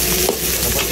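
Garlic and onion sauté in hot oil for a duck stew cooked with coconut milk, giving a steady close sizzle and frying hiss with brief stirring scrapes, no talk.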